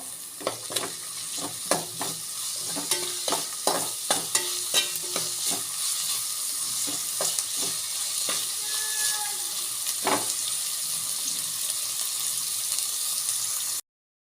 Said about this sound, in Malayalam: നല്ലപോലെ നമുക്ക് വഴറ്റി കൊടുക്കാം